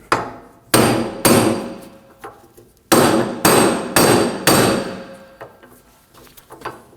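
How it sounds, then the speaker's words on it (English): A hammer strikes a socket to drive a wheel hub out of a wheel bearing clamped in a vise on a 2003-2006 Subaru Baja, giving about seven sharp, loud metallic blows at an uneven pace with ringing decay. "I'm going to knock the hub out using a socket and a hammer."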